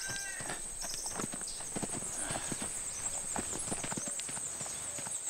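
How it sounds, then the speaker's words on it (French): Horse hooves clip-clop in an irregular series of sharp knocks, close and moderately loud, with a steady high-pitched hiss in the background. "Ce cheval est assoiffé, donne-lui donc à boire."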